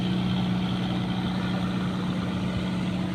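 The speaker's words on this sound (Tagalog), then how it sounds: "May dumaan na namang bangka." A large, smoky boat engine drones steadily as the boat passes nearby on the water, a loud continuous low hum and rumble holding constant throughout with no talking.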